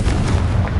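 A single Confringo blasting spell explodes in a cave in Hogwarts Legacy: one brief, close, heavy boom with a noisy burst that cuts off quickly.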